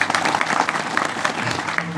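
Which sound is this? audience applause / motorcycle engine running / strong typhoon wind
audience applause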